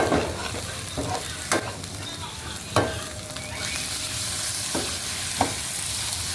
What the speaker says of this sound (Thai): พริกสดกระเทียมพริกแกงเผ็ด เอาลงไปผัดให้หอมก่อนครับ